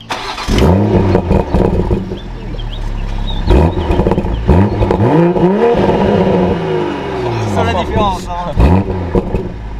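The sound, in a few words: BMW M340i xDrive G20 engine starting in sport mode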